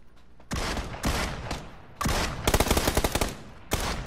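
Bursts of automatic gunfire from PUBG, a battle royale shooter: several loud, close volleys separated by short pauses, with a rapid rattling burst near the end and no talking over it.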